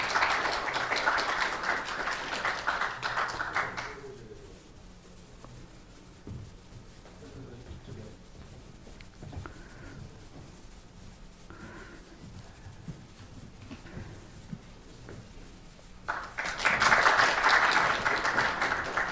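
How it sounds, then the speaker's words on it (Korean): An audience at a KIST lecture claps to welcome the speakers, a burst of dense clapping that dies away after a few seconds, a quiet stretch of faint room noise, then another strong round of applause near the end. "큰 박수 부탁드리겠습니다."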